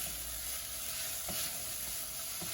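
Carrots, garlic, onion and ginger frying in oil in a pot, a steady close hiss of sizzling with a few soft stirring scrapes, no voices.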